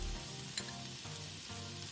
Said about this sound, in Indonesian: masukkan sedikit air, lalu masukkan potongan kue ikan, tumis lagi